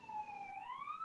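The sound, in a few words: police siren in the background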